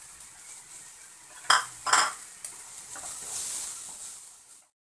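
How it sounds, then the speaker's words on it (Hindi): Chole masala is stirred through in a cooking pan for restaurant-style chole made at home. Two sharp spoon scrapes and clatters against the pan stand out near the middle, followed by a soft, steady sizzle that fades out. "छोले मसाले को ऐड करेंगे और इस तरीके से बराबर से चलाएंगे।"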